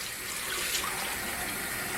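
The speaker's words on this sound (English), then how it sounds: "Rinse this chicken off good." Raw chicken pieces are rinsed under a running kitchen tap, giving a steady, close hiss of flowing water that splashes continuously from start to finish with no voices.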